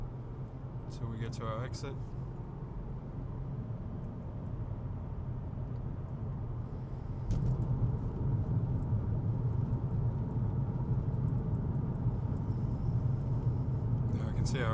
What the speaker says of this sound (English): Now we're in 4th gear, just cruising along